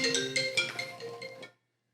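A mobile phone ringtone plays a quick run of bright electronic melodic beeps, fairly close, then cuts off abruptly into silence.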